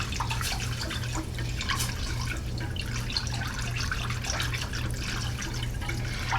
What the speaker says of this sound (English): and then we're going to whisk, whisk,